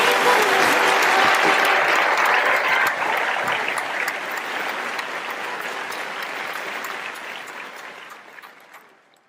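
Thunderous audience applause welcoming a co-chair at the Ekal Vidyalaya annual gala, a big crowd clapping loudly at first, then easing gradually and tapering off to silence near the end.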